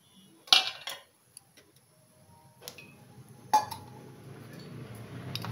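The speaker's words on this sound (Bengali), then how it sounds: "এটাকে আমি একটু জলে গুলে নেব।" A spoon clinks sharply against a bowl while spices are stirred into water, a few bright separated taps followed by soft swishing of liquid, close and without talk.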